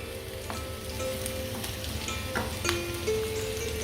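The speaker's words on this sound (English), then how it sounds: "our Patvelia and chillies frying away" Steady crackling sizzle of patvelia and chillies frying in hot oil, close and continuous, with scattered pops and a faint tonal hum in the background.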